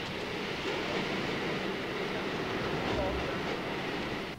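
New York City subway 4 train running, a steady loud rumble and rattle of the cars with no distinct voices standing out.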